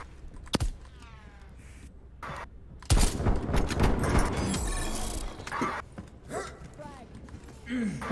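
Gunfire in Call of Duty: Black Ops Cold War during a 2v2 gun fight, with sharp shots and a loud sustained burst in the middle, mixed with game sounds and players talking.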